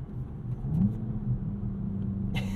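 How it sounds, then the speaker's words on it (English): Inside the cabin of a 2022 Volkswagen Jetta GLI, a steady low engine and exhaust drone hums while accelerating, with faint crackle-like ticks late in the moment and no talking. "this car pipes in so much exhaust noise, because when you can hear the speaker crackling when you're on the gas"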